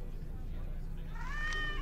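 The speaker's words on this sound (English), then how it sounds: "Oh, it was only a cat." A cat in the video game Dark City 8: Kyiv gives a single rising and falling meow near the end, clear above a low, steady background hum.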